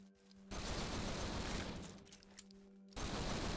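Rapid pistol gunfire in the video game Echo Point Nova, a dense, continuous burst of shots that fills most of the clip, cutting off abruptly before resuming at the end.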